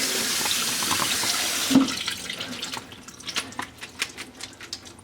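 A kitchen sink tap pours a steady rush of water for rinsing, then shuts off, leaving scattered drips and small splashes, close and fairly loud with no speech.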